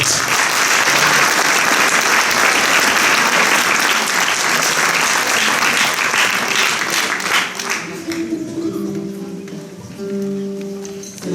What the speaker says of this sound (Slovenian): Max Ulčar in Venedin Dizdarevič, tudi za njih je aplavz.